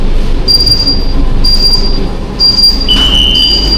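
A Kolkata Metro Orange Line train runs loudly and close, with a constant low rumble and repeated high, piercing wheel squeals coming and going in bursts.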